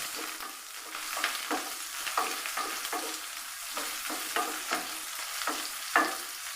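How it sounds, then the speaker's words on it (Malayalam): Shallots and onion sauté in a pan, a soft continuous sizzle broken by regular scraping strokes of a stirring spoon, close and fairly quiet. "ഇതിലേക്ക് നമുക്ക് ചുവന്നുള്ളി ഉള്ളി ഒന്ന് വഴണ്ട് വരുന്ന വരെ ഒന്ന് വഴക്കിയിടും"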